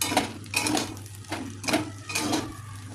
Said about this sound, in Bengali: পাস্তাটাকে আমি ভালো করে নেড়ে নিয়েছি